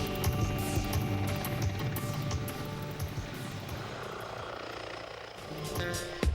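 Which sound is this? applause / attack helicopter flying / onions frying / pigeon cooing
attack helicopter flying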